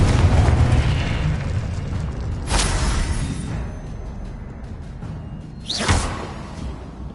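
Confringo blasting spells burst in a Hogwarts video game, a rumbling low roar with two sharp whooshing blasts, one near the middle and a brighter one toward the end, no voices.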